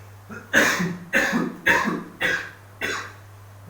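Five harsh coughs come in a steady rhythm, close and fairly loud, over a low constant hum.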